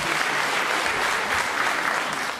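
An audience at a Romanian folk music concert in Suceava claps in sustained, dense applause that stays loud throughout and tapers slightly at the end.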